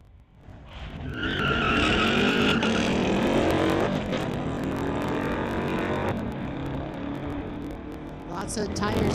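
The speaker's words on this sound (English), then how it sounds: "Lots of tire spin on that launch" Drag-strip launch pitting a 2018 Camaro against a 2010 Dodge with a 345 Hemi: a loud, sustained roar of engines and tire spin builds within the first second and holds steady, with an announcer talking over it.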